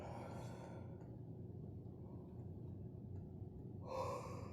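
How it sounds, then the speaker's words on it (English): Deep, slow yoga breathing during a gentle seated practice, with long exhales and inhales close to the mic, the rush of air fading midway and swelling again near the end, with no talking. "inhale and exhale, inhale and exhale."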